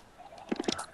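Chickens in the Minecraft video game give a few short, soft clucks in quick succession near the end.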